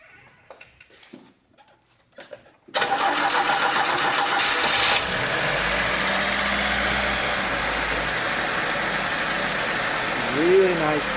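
A cold 1988 Lada Niva 1600 4x4 cranks and fires up after a few quiet clicks, then settles into a loud, steady high idle with a constant mechanical hum.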